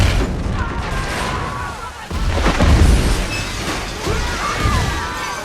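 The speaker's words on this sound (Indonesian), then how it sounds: "secara mengejutkan bom yang Ariela pasang meledak dan membuatnya terpental" A bomb planted in a heist film detonates, a heavy booming crash with rumbling debris that swells and recedes over several seconds, followed by further rolling impacts and low rumble.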